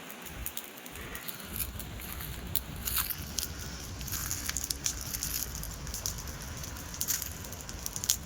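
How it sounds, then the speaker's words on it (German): Campfire used for a ceramic firing outdoors, crackling and popping steadily with sharp irregular snaps over a dense, continuous hiss, fairly close and without any talk. "Lagerfeuer, Keramikbrand wie in der Steinzeit."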